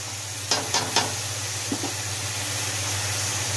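Onion frying in oil with black cardamom in a home kitchen, giving a steady, faint sizzle with a few sharp clinks of stirring near the start.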